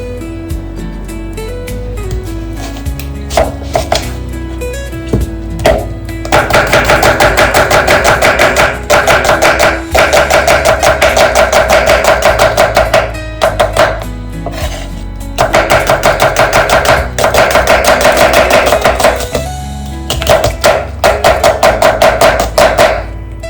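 Garlic chopped with a knife on a board, loud rapid steady chopping in long bursts with short pauses between, close and without talk.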